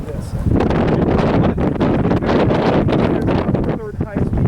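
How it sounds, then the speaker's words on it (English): Strong wind buffets the microphone on an exposed ridge line near a high Massachusetts peak, a loud continuous roar with gusty swells and rumbling low end, while faint voices speak briefly near the end. "it's clearly very windy"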